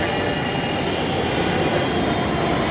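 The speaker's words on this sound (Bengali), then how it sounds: "দেখা যাচ্ছে মেট্রো রেলটি চলে এসেছে" Dhaka metro rail train arriving at the Mirpur 11 station platform, giving off a loud, continuous rushing roar and hum that fills the whole stretch with no talking.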